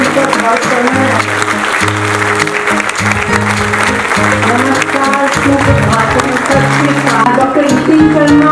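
Seminar audience applause welcoming chief guests at an Ayurveda emergency seminar in Bathinda. Steady clapping mixes with loud music that has a clear melodic line, and both run at a strong, even level.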